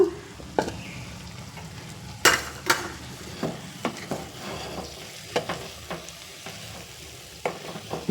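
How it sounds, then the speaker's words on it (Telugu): A spoon stirs rice gently into brinjal masala in a pan, sharp scraping knocks spaced irregularly over a soft, low sizzle, close and fairly quiet. "ఇప్పుడైతే మనం రైస్ వేసి కలిపేసుకోవడమే"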